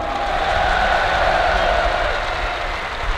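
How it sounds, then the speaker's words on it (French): A large crowd at a car tuning show applauding loudly and steadily, dense clapping with some cheering mixed in. "on les applaudit tous très fort"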